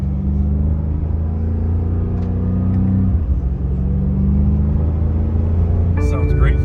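A 2022 BMW M5 CS engine idling and revving, a loud steady low drone that dips and rises again, heard from close by with a brief higher mechanical sound near the end.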